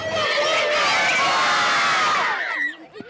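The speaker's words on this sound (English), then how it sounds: "judging by the stadium and the crowd in the background" A large stadium crowd at a high school event cheers and shouts loudly in a dense roar that fades out near the end.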